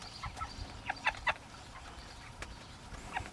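Chickens raised on pasture cluck softly outdoors, a few short, scattered clucks over a quiet low background rumble.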